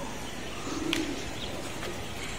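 Pigeons coo softly on a rooftop: a brief low coo stands out over a steady wash of outdoor background noise, with faint chirps around it.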